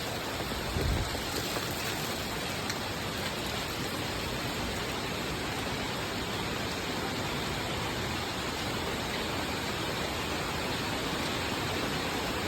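Heavy monsoon rain in the Konkan region pours down while floodwater rushes through a stream, making a dense, loud, unbroken roar that stays level throughout.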